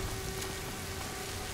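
Steady rain falls in the video game A Plague Tale: Innocence, a soft, even hiss with a faint low hum and no other sounds or voices over it.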